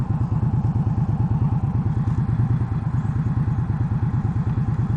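A 2015 Indian Scout motorcycle engine with stock exhaust idles close by with a steady, rapid, lumpy thumping rhythm, loud and continuous throughout.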